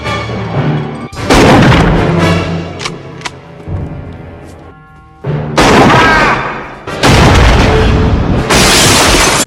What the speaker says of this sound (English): the business owners around town shoot the fuck out of Brad Wesley